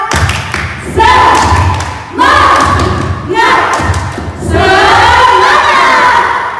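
Children at a Sunday school service repeat a rhythmic spirit clap, four energetic bursts of patterned clapping mixed with loud group chanting and shouting, close and forceful.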